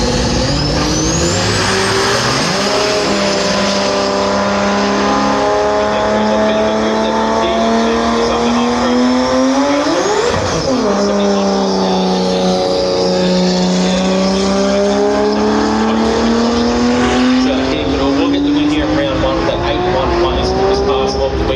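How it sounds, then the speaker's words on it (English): A drag racing car making a 13-second pass at 129 mph at the Brisbane Jamboree in Willowbank, its loud engine climbing steadily through the gears, then a sharp pitch swing as it roars past before pulling hard again. "Mansour rolls through for a 13-second pass at 129 mile an hour"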